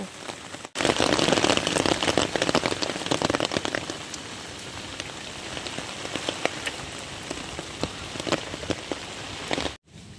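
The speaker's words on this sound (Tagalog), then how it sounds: "Ah, lakas ang ulan." Heavy rain pours down hard, a dense, loud hiss of drops drumming on surfaces that swells early and then eases slightly, cut off sharply near the start and the end.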